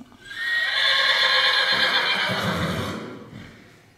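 A two-year-old Mérens mare gives one long, loud neigh close by, a high shrill whinny that slides down and fades into low snorting rumbles as it ends.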